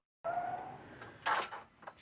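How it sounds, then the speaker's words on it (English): A door swung and shut in a TV drama scene, with a drawn-out creaking squeal followed by a sharp clunk and a smaller click or rattle as it latches, heard close by and alone. "You better lock that door."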